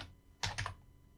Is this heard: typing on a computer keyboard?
yes